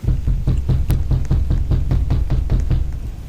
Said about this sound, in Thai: เสียงใครเคาะประตูวะ